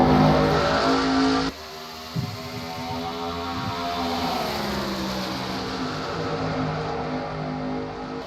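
Race cars roar around Charlotte's oval on a restart at a MG Cup Series All-Star Open, with a loud engine blast at first, then a sustained, distant, layered drone of many cars accelerating.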